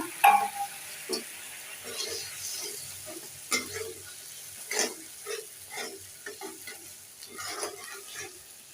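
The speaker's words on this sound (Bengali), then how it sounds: "মশলাটা কষিয়ে নিচ্ছি তরকারি অল্প তো" A small amount of spice paste for a bottle gourd curry sizzles quietly in oil while a spatula stirs it in irregular scraping strokes, close and fairly soft.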